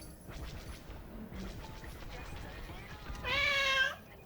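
A single short meow rises near the end in a quiet indoor room, after a stretch of faint background noise.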